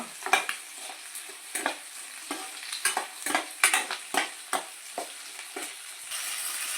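Chicken sizzles and fries in a pan for a masala gravy, with a steady crackle broken by repeated bursts of stirring and scraping, close and moderately loud with no talking.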